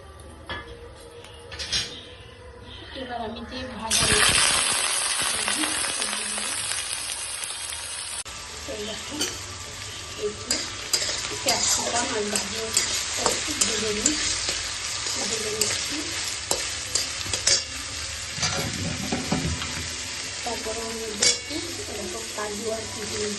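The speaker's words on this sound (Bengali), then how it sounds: "একটু গোটা গরম মশলা সাদা তেলের মধ্যে আর একটু তেজপাতা দিয়ে দিলাম ঘি অ্যাড করে দিলাম" Whole garam masala and bay leaves frying in a mix of oil and ghee, with a steady sizzle that jumps louder partway through, a stirring spoon scraping the pan and occasional clinks of metal utensils.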